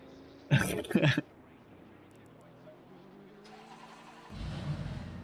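A five-cylinder car engine in a GT2 racing game rises into a rev toward the end, after a couple of short, sharp noises near the start.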